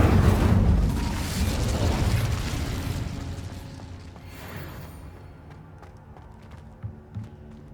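A fiery spell blast erupts in Hogwarts Legacy, a loud whooshing burst that dominates the first few seconds, then trails off into a quieter rumble with a couple of small pops near the end.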